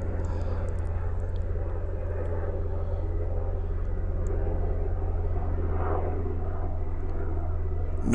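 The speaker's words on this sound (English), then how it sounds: "Where's all these planes and helicopters flying over here for?" Aircraft flying over a residential neighbourhood at night, a steady loud low drone of engines that holds throughout with a slow swell of passing noise, no talk.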